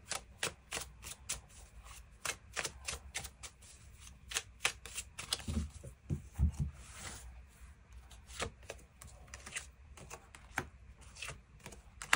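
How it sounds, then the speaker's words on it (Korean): A deck of tarot cards is shuffled over and over, giving a long run of crisp riffling clicks and flutters, close and fairly loud, with no voices. "추가 카드 뽑아보도록 하겠습니다"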